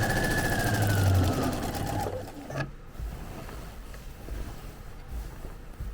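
Quilting machine stitching through a quilt with batting, a steady loud mechanical whir for the first two seconds, then a stop followed by quieter intermittent handling and low rumble.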